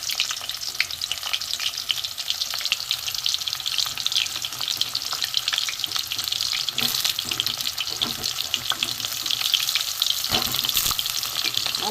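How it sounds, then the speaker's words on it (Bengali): Diced pointed gourd frying in oil in a wok gives a continuous close sizzle, broken by scraping stirs and a few sharper clatters, with no one speaking. "এখানে যে পটল ডুমো করে কাটা আছে এগুলো আমি ভেজে নেব।"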